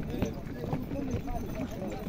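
Donkey hooves clop steadily as a cart rolls along at the back of a procession of horse riders and oxen, the hoofbeats mixed under continuous outdoor talk.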